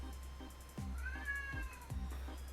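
A cat meows several times in short, plaintive calls, fairly close and quiet, with one longer drawn-out meow in the middle and no talking.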